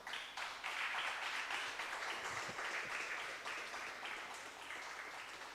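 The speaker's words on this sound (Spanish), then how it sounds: "¿Alguien le da un aplauso al Señor?" Congregation at a Spanish-language church service clapping steadily, a dense wash of applause that holds strong through the whole stretch without speech over it.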